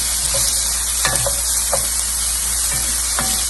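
Ginger and garlic sizzling in a hot pan with carrots for Trini fish pastelles, a loud steady hiss with a few short scraping stirs and clinks of the spoon, close and continuous without speech.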